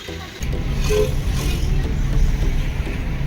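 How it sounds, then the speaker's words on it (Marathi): Car pulling up nearby on a road, a loud engine and tyre rumble rising suddenly and holding steady, with faint traffic noise around and no talk. "गाडी पण आपली आलेली आहे"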